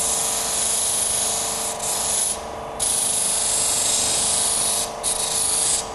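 Disc sander grinding against timber, a steady broadband hiss and whir with two brief dips where the wood is eased off the disc before contact resumes; close and continuous with no talking.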